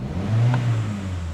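A 162k-mile VW Golf engine idling smoothly after a cam belt replacement, a low, quiet steady hum with a slight swell partway through, heard alone.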